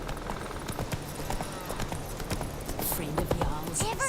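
Horse hooves clip-clopping in the video game Witcher 3, a quick steady rhythm under a speaking voice and game sounds.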